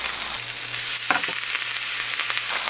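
Angelica leaves deep-frying in hot oil for a vegetable tempura batch, a steady close sizzle and bubbling with brief stirring or spattering bursts, no voices.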